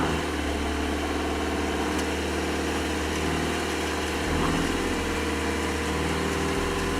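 Subaru Outback gasoline engine straining at high RPM on a steep off-road climb, a steady droning whine that holds constant and loud throughout.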